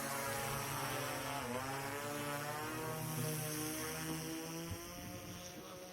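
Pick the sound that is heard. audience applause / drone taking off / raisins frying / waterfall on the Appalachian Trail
drone taking off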